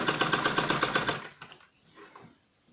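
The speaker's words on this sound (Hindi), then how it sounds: "अभी देखिए, ऐसे ही गुलाई के साथ साथ हम इसे सिल लेंगे" A sewing machine stitches a curved kurti seam in a fast, loud burst of rhythmic mechanical clatter for about a second, then stops, leaving faint handling noises.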